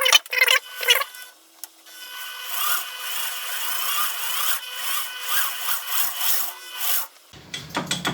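A small M3 steel tap is turned by hand to cut a fragile thread, making a close, dry scraping and rasping that comes in short uneven strokes, followed by a brief clatter at the end.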